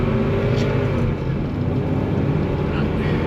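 A car driving along a scenic road near Virginia, with steady engine drone and road rumble heard from inside the cabin, continuous and fairly loud throughout.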